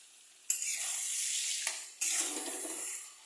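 Mutton pieces hit hot frying masala in a pan, bursting into a loud, steady sizzle that flares twice as more meat goes in, with stirring scrapes underneath.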